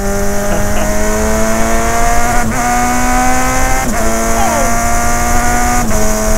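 A Suzuki 650 Bandit motorcycle with a quickshifter revs loudly and steadily while riding, its engine note climbing and then dipping sharply at each of several quick upshifts.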